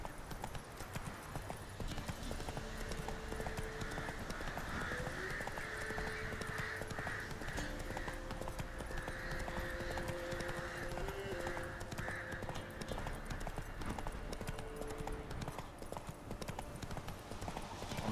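Roach, Geralt's horse in The Witcher 3, gallops with rapid, continuous hoofbeats under a bed of in-game music that runs throughout.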